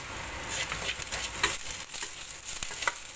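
Onions, green chilies and curry leaves fry in a pan for a spicy South Indian mushroom gravy, with a steady close sizzle and occasional stirring scrapes and pops, no voices.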